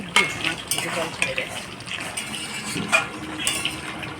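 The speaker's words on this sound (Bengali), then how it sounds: "মাংসটা আমি নাড়া দিয়ে নিলাম" Goat meat curry with potatoes and ground spice paste being stirred in a pot, spoon scraping and clinking against the metal in short irregular strokes, with a faint sizzle underneath.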